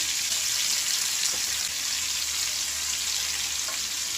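Tilapia fish coated in spices fries on low heat, giving an even, steady sizzle with a faint crackle, close and continuous, with no talking.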